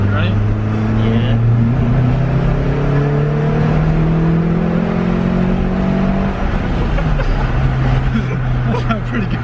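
A nitrous-equipped Toyota Starlet with a 4E-FE engine accelerating hard in second gear, its engine note climbing steadily in pitch under loud cabin drone, with voices talking over it.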